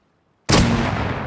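A thrown explosive in the game Rust detonates with a sudden sharp boom after a moment of silence, followed by a long, loud, broadband rumble that slowly decays.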